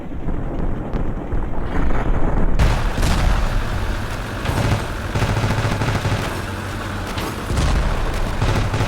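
A building blows up in a helicopter-and-tank combat video game: a sudden loud blast around three seconds in that jumps out of dense gunfire and battle noise, followed by sustained rumbling and crackling chaos.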